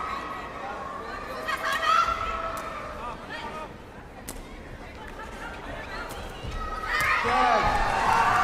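Spectators at an ISTAF Sepaktakraw World Cup 2025 match make a steady crowd roar of chatter and shouting, swelling into louder cheering near the end, with a commentator talking over it.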